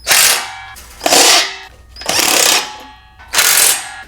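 Cordless power tool driving a 10mm socket onto tail light and side marker nuts while assembling a MicroSport Overland tent trailer, four loud close bursts of whirring separated by brief pauses.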